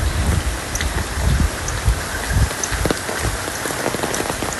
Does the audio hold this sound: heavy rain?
yes